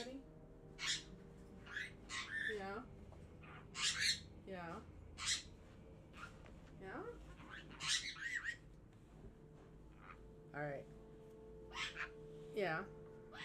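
Pet bird giving repeated sharp squawks and calls at irregular intervals, close by, over a quiet room with faint background noise.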